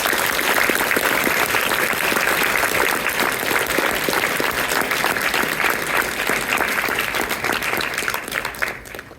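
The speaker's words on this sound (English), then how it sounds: "Should we give our finalists one more round of applause?" An audience applauds the finalists of a Public Forum debate final at the Tournament of Champions. The crowd clapping is loud, dense and sustained for about nine seconds, then thins out at the very end.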